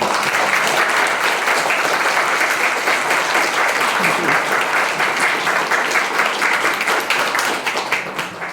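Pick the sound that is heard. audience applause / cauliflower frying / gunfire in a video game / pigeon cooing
audience applause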